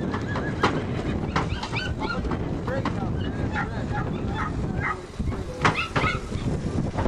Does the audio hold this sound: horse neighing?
yes